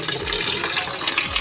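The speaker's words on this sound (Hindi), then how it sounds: "ए वाले बाल्टी में ना पानी झोंक लेता हूँ" Water gushes and splashes into a bucket in a village kitchen, a steady close-up pouring lasting a moment with no one speaking.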